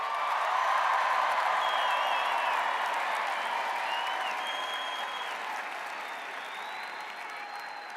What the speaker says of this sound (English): Let's give a round of applause to what this evening is about.